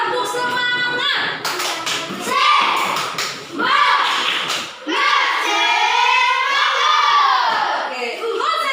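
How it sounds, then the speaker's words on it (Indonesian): A class of schoolchildren does the rhythmic Indonesian 'tepuk semangat' clap, bursts of hand claps mixed with children chanting and shouting in unison, close and lively in a classroom. "Ayo, tepuk semangat."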